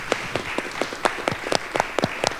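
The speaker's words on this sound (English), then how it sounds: "how about a round of applause for our distinguished panelists?" Sparse applause from a conference audience honoring panelists at the close of a session, with scattered, uneven individual claps rather than a full ovation, fairly quiet.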